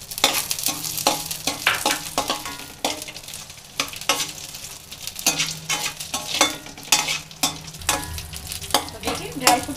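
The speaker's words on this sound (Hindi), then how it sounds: "जो ड्राई फ्रूट लिया वो हमें थोड़ी सी रोस्ट करनी है" Dry fruits and raisins roasting in a kadhai while lauki halwa is made, giving steady sizzling with repeated scraping, stirring strokes from a spoon against the pan, close and moderately loud with no talking.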